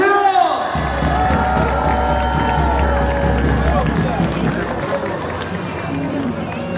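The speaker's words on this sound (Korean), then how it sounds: "자, 박수 주세요!" A crowd at an outdoor political rally in Busan applauding and cheering, a steady dense wash of clapping and voices with a loud amplified voice speaking over it.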